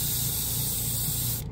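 A trigger-style dual-action airbrush sprays paint in one continuous, close airy hiss that holds steady and then cuts off sharply at the end.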